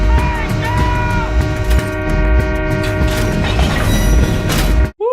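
Train brakes grind and squeal as a freight train slows in a TV drama scene, a loud, sustained metallic screech with creaking, ending in a sudden cut and a brief high tone.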